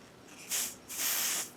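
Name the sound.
aerosol makeup spray being sprayed, shade Deep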